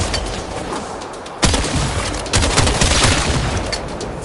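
Explosions in the video game Warframe, a sustained crackling roar punctuated by two sharp bursts, loud and close, with dense debris-like rumbling throughout and no talking.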